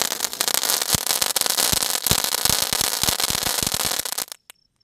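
Diwali firecrackers set off outdoors erupt in a dense, continuous crackle of rapid pops and sharp bangs, loud and close, ending abruptly before a brief final snap.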